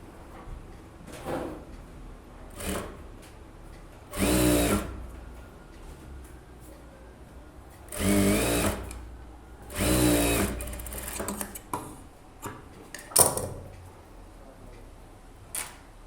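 A sewing machine stitching a blouse gives three short bursts of fast whirring, separated by quieter handling clicks and rustles.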